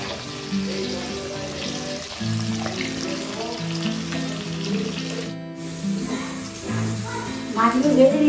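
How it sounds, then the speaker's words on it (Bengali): Pabda (butter catfish) fish frying in a pan, giving a steady close sizzle under a voice talking throughout, with a brief gap midway. "মাছগুলো ভেজে নিলাম"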